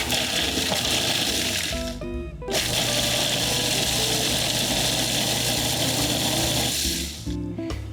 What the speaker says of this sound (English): I'm just going to whir those until the walnuts are chopped into little